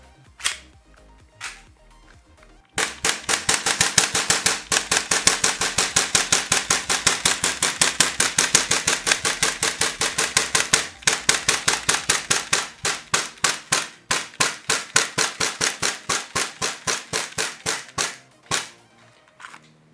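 A Tokyo Marui FN 5-7 airsoft gas pistol fires a long, fast string of sharp cracking shots, then slows to separate, evenly spaced shots before stopping.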